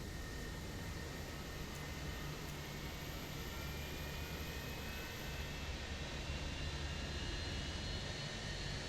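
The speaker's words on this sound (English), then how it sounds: "Engine 1's available, so we start engine 2." Second engine of an Airbus A321 spools up in the Fenix flight simulator with the first engine already running, a steady jet whine and broad turbine hiss holding level, with a faint high tone rising slightly partway through.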